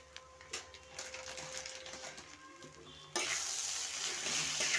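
Chowmein frying in a pan as it is stirred by hand, a close clattering sizzle that suddenly jumps to a louder, fuller hiss partway through.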